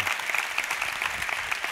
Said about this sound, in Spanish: Por favor, un aplauso para Habibi.